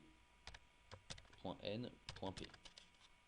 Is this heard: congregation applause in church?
no